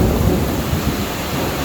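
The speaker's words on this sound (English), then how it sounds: "a real deal storm" A heavy thunderstorm with steady rain pouring down, a dense, continuous wash of rainfall with low thunder rumbling underneath, loud and close throughout.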